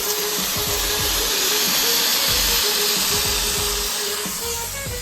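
A pressure cooker on a home kitchen stove vents steam in a loud, steady hiss that holds unbroken throughout, with faint low rumbling underneath.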